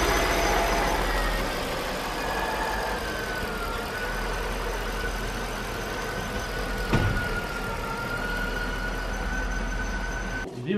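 A Mercedes S-Class W221 engine idles steadily right after an oil change, a continuous low hum with a faint whine held throughout and a brief click near the end.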